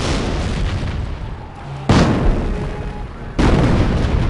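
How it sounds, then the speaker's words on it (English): Artillery shells from Company of Heroes Mobile land in two heavy booming blasts a second or so apart, each a loud broad rumble over a steady battle background, with no speech. "Krauts are throwing artillery at us"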